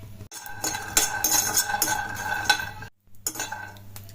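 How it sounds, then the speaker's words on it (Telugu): Peanuts stirred around a hot, heated kadai (wok) while they roast, giving steady scraping and clinking of nuts against metal with light sizzle, close and continuous with a brief pause near the end. "ఆ బాండీ హీట్ అయ్యాక పల్లీలు వేసుకొని పల్లీలని వేగనివ్వాలి"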